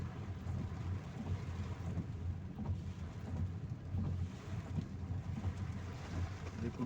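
Heavy rain and stormy wind in Kundrathur, a steady dense roar with deep low rumbling throughout, loud and continuous with no talk.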